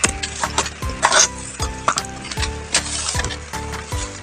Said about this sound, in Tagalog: maingay na tong laptop